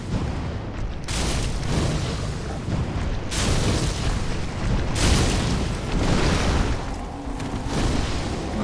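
Fire attack in Dark Souls III in the Farron Keep swamp, a series of loud booming fiery bursts roughly every couple of seconds, each a broad roaring blast with crackling tails, no talking.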